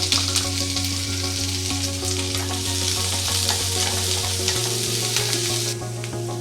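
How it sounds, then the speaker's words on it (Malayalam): Two finely chopped onions sizzle loudly and steadily in hot oil for a mango curry, with a constant frying hiss over steady background music. "ഞാൻ രണ്ട് സവാള എടുത്തിട്ടുണ്ട് ചെറുതായിട്ട് നുറുക്കിയെടുത്തതാണിത് അതിട്ട് കൊടുക്കുക"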